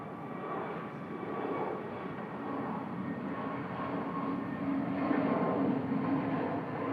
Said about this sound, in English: Lovely lean takeoff roll.